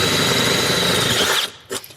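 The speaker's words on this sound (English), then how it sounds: "let's drill these two holes here." A power drill bores holes for mounting pedals in an IS300 manual swap, running loud and steady for about a second and a half before stopping, followed by a short clunk.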